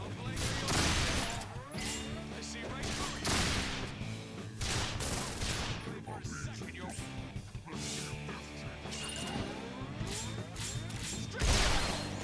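Gunfire in the video game Resonance of Fate, dense bursts of shots and impacts layered over continuous game music and effects, loud and busy throughout, with someone talking over parts of it.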